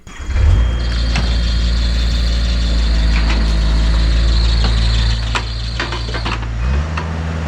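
An excavator engine starts with a loud roar and then runs steadily near at hand, with a thin high squeal over the heavy low rumble that fades out before the end, as from a slipping belt.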